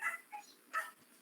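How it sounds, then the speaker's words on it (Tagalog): A neighbor's dog barks from beyond the fence, several short yips and barks at a distance, faint and a little muffled, with pauses between them. "maingay po yung aso ng kapitbahay"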